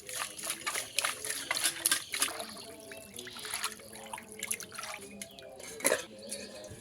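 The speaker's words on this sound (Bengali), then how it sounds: "মাছগুলোকে লবণ দিয়ে ভালো করে ধুয়ে নিব।" Shing fish are rinsed by hand with water and salt, giving irregular close splashes, drips and trickles with busy bursts of sloshing and a few pauses between.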